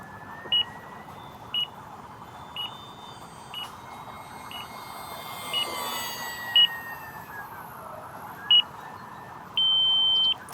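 A flight timer alarm used while flying an FMS SkyTrainer 182 RC plane on a 4S battery emits short, evenly spaced electronic beeps about once a second, ending in one longer sustained tone, over steady outdoor background noise.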